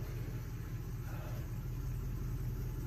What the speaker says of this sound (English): Now go in reverse. I'm here to tell you, reverse in low range is a brake hungry son of a gun.